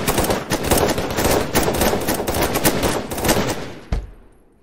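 Rapid, continuous automatic gunfire rattles loudly and up close for about four seconds, then stops abruptly and leaves a fading echo.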